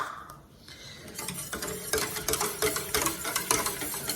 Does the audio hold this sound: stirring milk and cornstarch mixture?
yes